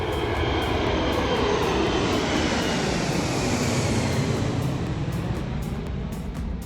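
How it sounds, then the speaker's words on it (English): A fixed-wing aircraft flying over at an airport in Alaska, a loud, continuous engine roar that sweeps past close by and fades slightly at the end, with no talking. "break out the ATC radio and admire some of the flyovers"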